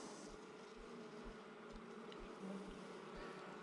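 Honey bees buzzing at a hive, a dense continuous hum of many insects close by, steady and even, with faint soft knocks underneath and no voices.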